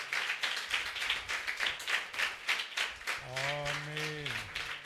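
A crowd at a youth church gathering in Mangalam, Tirupati claps loudly in a steady, rhythmic beat throughout, with a voice speaking over it near the end.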